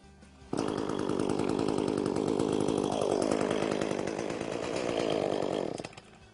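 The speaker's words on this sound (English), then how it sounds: "now I'm ready to start the chainsaw" An ECHO chainsaw fires up abruptly on a cold start and runs loudly with a buzzing, rattling drone, its pitch shifting slightly before it cuts out.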